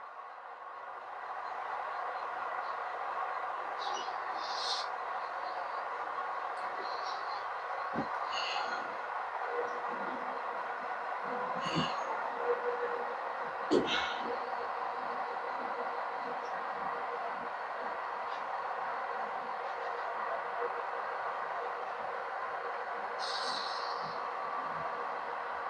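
A steady mechanical hum from an Athearn SW1500 model diesel locomotive with Tsunami II sound slowly pulling away from a standstill, with occasional clicks and soft squeaks over the drone, no one speaking.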